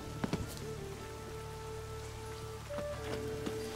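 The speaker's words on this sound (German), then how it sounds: "Wieder mal Regen." Steady rain patters evenly on a surface in the video game The Witcher 3: Wild Hunt, with a few soft drips and a low tonal hum in the background.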